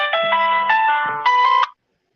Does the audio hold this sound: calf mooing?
no